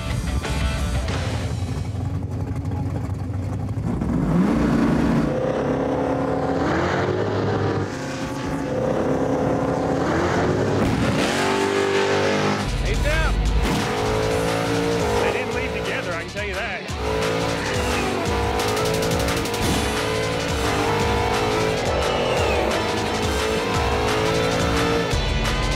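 Race cars start up and tear away, engines roaring and revving continuously with tire squeal and skidding, loud and close, while people talk over the noise throughout.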